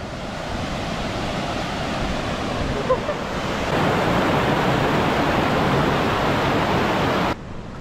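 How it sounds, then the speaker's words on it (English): Constant rushing roar of falling water, broadband and steady, growing a little louder partway through before cutting down near the end. "There's a waterfall right here."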